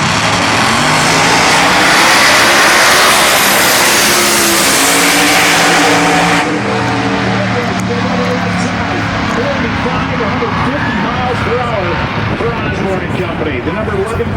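Pro Mod drag cars at a heads-up eighth-mile race, a Vortec-supercharged small-block Ford Fox body Mustang against a 509 cubic inch Chevy-powered 1982 Cutlass, roar loudly off the line and fade as they pull away, with an announcer talking throughout.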